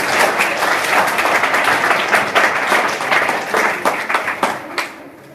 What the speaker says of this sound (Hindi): तो ये जितने नए वाले लोग हैं सबके लिए ताली